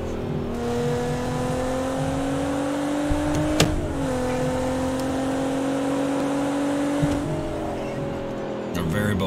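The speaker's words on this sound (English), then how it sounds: "James says, gotta hit the VTEC." A video game car engine hums at steady revs, pitch climbing gradually with gear shifts, while a voice talks over it.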